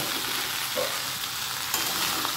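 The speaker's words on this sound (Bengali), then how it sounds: "এবার এইগুলোকে ভালোভাবে ভাজবো।" Ridge gourd, potato and thankuni leaves fry in a pan for a Bengali shukto, giving a steady broadband sizzle with a couple of faint stirring clicks, close and continuous with no talk.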